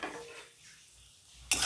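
Popcorn kernels tip into a hot pan of salt on a stove, a sudden close rattling hiss after a quiet moment.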